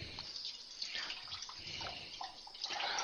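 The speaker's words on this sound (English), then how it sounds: "water running here." Tap water runs steadily into a kitchen sink, a broad hissing splash with gentle fluctuations lasting about three seconds, close by with no talking.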